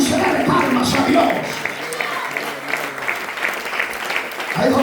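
Loud applause fills a church congregation, a dense wash of many hands clapping throughout, with a voice speaking over it near the end.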